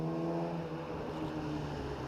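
A Jaguar E-Type 4.7 litre engine with a Swedish Lysholm supercharger, in a car at Prescott, gives a loud, continuous whining roar that holds steady from start to finish with no talk.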